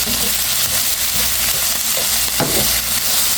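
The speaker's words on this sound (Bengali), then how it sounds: "পেঁয়াজটা ব্রাউন কালার হয়ে গেছে এখন আমি শাকটা দিয়ে দেব" Mixed greens frying with browned onions in a pan, a loud continuous sizzle and hiss with a few stirring clatters and bumps partway through, no voices.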